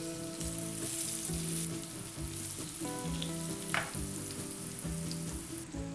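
Butter for a honey glaze sizzles and fries in a pan, a steady crackling hiss with occasional pops and a brief scrape of stirring, heard alone under faint background tones.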